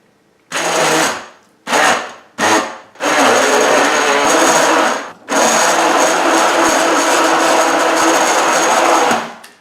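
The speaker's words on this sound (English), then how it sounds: "So we're going to use our little hand blender here." A small hand blender mixing a single-serving chocolate antioxidant drink in a cup whirs loudly in three short bursts, then runs in two long sustained stretches separated by a brief pause, close up and without talk.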